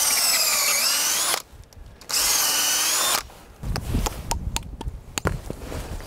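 A power drill bores a tap hole into the south side of a maple tree to collect sap, running in two loud steady bursts separated by a pause. Afterwards come scattered knocks and handling noises.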